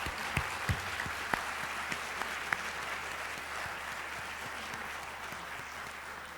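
Warm applause fills the room at an 80th birthday celebration at a university gathering, with steady clapping from a seated audience and a few sharper individual claps standing out early on.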